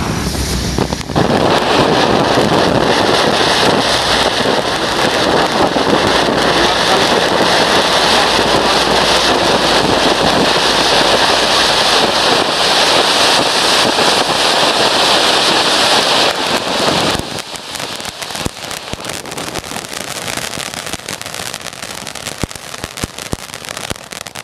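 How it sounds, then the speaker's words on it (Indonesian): Two size 4 Konik Fonten fountain fireworks burning together, a loud continuous hissing spray for about sixteen seconds before cutting off, followed by quieter crackles and outdoor noise. "yang pertama kita nyalakan Konik Fonten ukuran 4"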